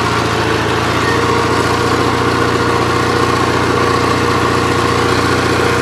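A Gravely 8163-T garden tractor engine runs under load with ag tires fitted, giving a loud, steady, close-up drone that holds unbroken throughout.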